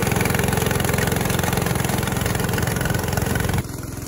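A rideable remote-controlled lawn mower's engine, which also charges its battery, runs close and loud at a steady rumble, then drops abruptly to a lower level near the end.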